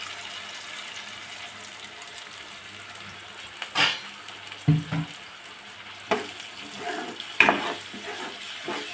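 Ground tomato puree frying in a pan for an ivy gourd (thondekai) gravy, giving a steady sizzle with a few sharper spatters and stirring scrapes, close and fairly quiet.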